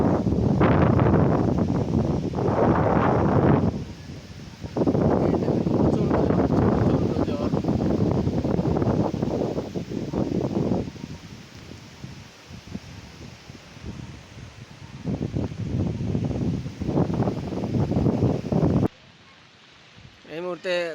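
Strong storm wind flattens trees just before rain, roaring in long heavy gusts that batter the microphone, then easing briefly before surging again, with a voice heard now and then.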